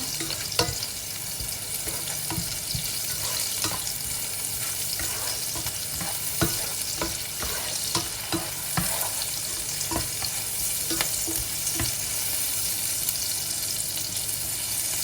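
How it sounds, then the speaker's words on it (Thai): Shallots frying in hot oil for pad thai, a dense continuous sizzle with small crackles and light stirring, close and steady with no talk. "เจียวทอดหอมให้ เป็นสีใส ๆ หรือว่ามีกลิ่นหอมเตะจมูกนะคะ"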